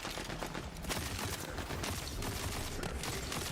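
Rapid gunfire from a weapon in the video game Tiny Tina's Wonderlands rattles continuously in dense bursts, loud and unbroken throughout.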